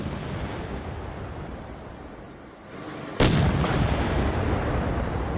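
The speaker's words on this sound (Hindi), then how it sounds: "यूक्रेनी आर्टिलरी इन्फेंट्री का हमला" Ukrainian artillery strike on Makrivka in news footage: one heavy, sudden boom cuts through a steady roar of wind and background noise, followed by a brief echoing rumble.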